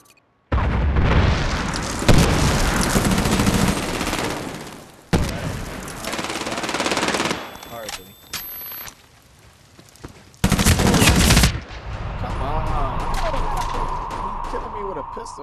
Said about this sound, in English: So I'm shooting him with a